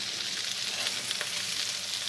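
North Sea squid frying in a pan, a dense, even sizzle heard up close and alone from start to finish.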